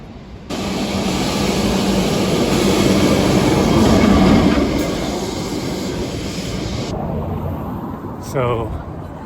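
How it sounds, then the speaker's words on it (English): A Lisbon trolley car passes along a city street, a loud rumbling roar with high metallic whine rising then fading, followed by a brief squeal, heard up close from the sidewalk. "Here comes the trolley car."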